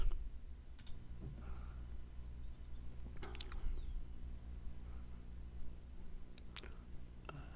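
Sharp, isolated mouse clicks on a PC while files are extracted with 7-Zip, a few scattered taps over a low steady hum with no speech.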